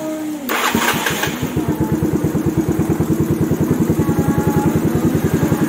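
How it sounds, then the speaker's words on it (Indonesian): A Yamaha Mio Smile motorcycle engine is cranked and catches after a short starter burst, then settles into a fast, steady idle with an even rapid putter, close by. "Nah, kita hidupkan mesinnya."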